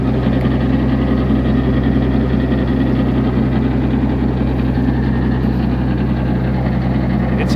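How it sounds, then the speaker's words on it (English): Avant 530 with a hydraulic bush cutter runs at about 2,500 RPM, its gearbox grinding from a bad tooth. The steady, loud mechanical drone and hum continues unbroken throughout, with no talk. "This gearbox here actually had a little bit of a bad tooth, and that's the grinding noise you're hearing."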